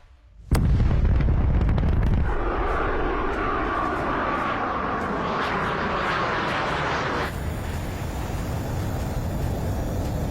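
A fighter jet takes off. A sudden loud blast of engine roar starts a half-second in and holds as a dense, sustained rumble. Its tone shifts about two seconds in and again near seven seconds, staying close and powerful throughout.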